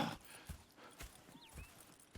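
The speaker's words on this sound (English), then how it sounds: "Go check the horses are ready." Horses in the Red Dead Redemption 2 video game: faint, regular hoof clip-clops at roughly half-second intervals over a soft outdoor background, with a few light incidental sounds.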